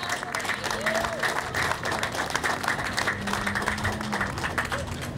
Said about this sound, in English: let's give a round of applause to you